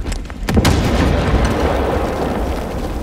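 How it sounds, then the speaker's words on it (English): A grenade detonates in the Warhammer Space Marine 2 game: a loud, close blast with a sharp burst, then a dense roaring rumble that fills the rest of the moment. "Threat grenade hot!"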